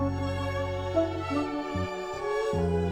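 Synth-like sampled music with sustained layered tones and shifting bass notes plays back steadily for a few seconds, with no voices over it.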